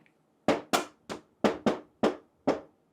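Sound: knocking on the casing of a Daikin air conditioner

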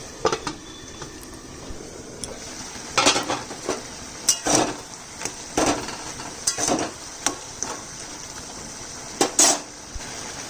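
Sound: covering cooking pot with lid

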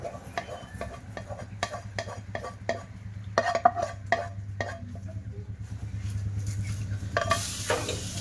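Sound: caramelized sugar poured into hot milk

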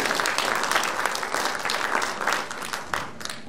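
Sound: audience applause

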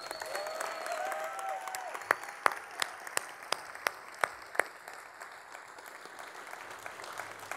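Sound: audience applauding the graduates

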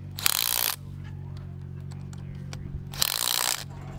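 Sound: anchor bolts being tightened down with a ratchet

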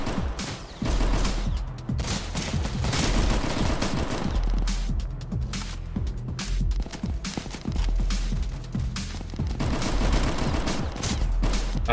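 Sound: gunfire in Roblox Headcrab Infection video game

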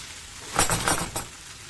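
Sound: meatballs cooking in a pot for Valide Sultan soup

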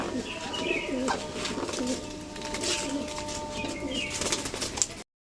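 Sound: pigeon cooing

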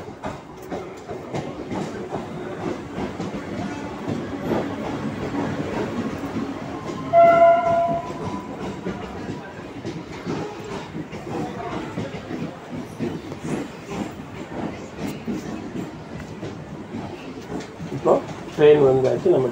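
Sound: suburban train arriving at Guindy railway station

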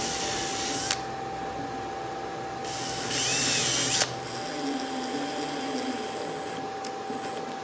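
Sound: power drill pre-drilling holes

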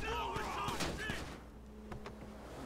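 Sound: gunfire in Grand Theft Auto V video game

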